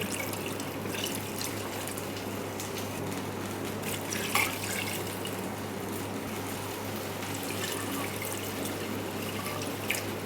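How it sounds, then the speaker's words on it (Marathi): Water poured into a pan of spicy mutton curry makes a steady, soft watery rush with faint splashing. It holds constant throughout, with only a couple of small clinks and no speech. "त्यामध्ये आपण पाणी टाकून देऊ"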